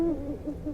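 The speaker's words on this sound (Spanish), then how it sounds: "escuchamos a un búho ululando" An owl hoots in a wooded residential area at night, a steady low call holding through the short moment with no voices.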